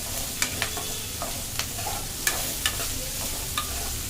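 Onions and green chillies fry in a pan for sago kichdi, a steady low sizzle under repeated sharp scrapes and taps of a spoon stirring, close and moderately loud, with no talking.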